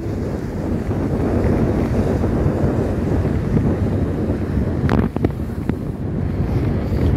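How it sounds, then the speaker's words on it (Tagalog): Sea waves wash against the hull of a sailing boat on a summer trip along the Swedish coast, under heavy wind buffeting the microphone, with a few brief knocks and no speech. "Ayun na naman, ang alon."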